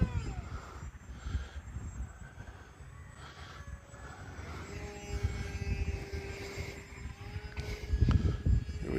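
RC model airplane flying overhead, a thin buzzing motor whine rising and fading as it passes, moderately distant under outdoor wind noise, with someone talking over it.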